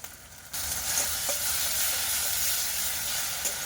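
Spice masala frying in oil for a crab curry, a loud, steady sizzle that jumps up sharply after a brief quieter start and then hisses continuously up close, with a few faint stirring clicks and no voices.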